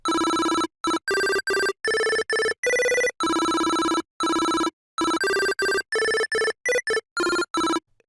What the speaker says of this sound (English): if you want something like a telephone or a very fast moving sound